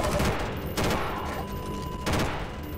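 Half-Life 2 gunfire strikes a wooden barrier in bursts, three dense volleys of loud sustained shots with only brief pauses between them, and a faint voice underneath.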